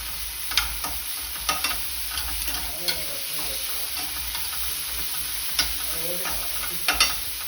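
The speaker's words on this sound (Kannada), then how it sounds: "ಮತ್ತೆ ಇನ್ನೊಂದು ಸಲ ಮಿಕ್ಸ್ ಮಾಡಿ" A spatula stirs and scrapes through salted food in a frying pan for a lunch box recipe. A steady low sizzle runs underneath, with light clinks and taps of the utensil against the pan at irregular moments.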